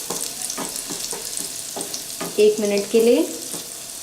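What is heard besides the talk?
chopped onion sautéing in oil in a pan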